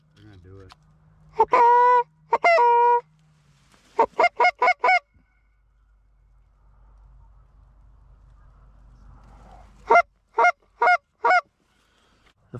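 Several duck-like honking calls come from waterfowl flying in over a duck hunt, arriving in quick repeated bursts of loud, nasal cries separated by quiet pauses, with a faint voice in the background.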